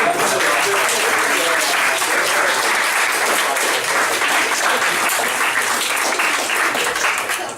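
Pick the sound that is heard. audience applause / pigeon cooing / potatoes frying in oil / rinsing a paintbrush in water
audience applause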